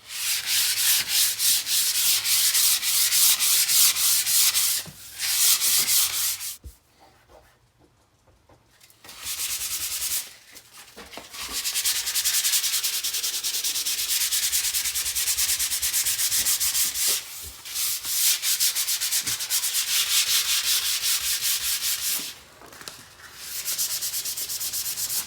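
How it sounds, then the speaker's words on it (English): A butcher block wood countertop is lightly sanded with 320-grit sandpaper, giving steady, close, raspy rubbing strokes that stop for a couple of seconds twice before resuming. "I'm going to quickly light sand it with some 320"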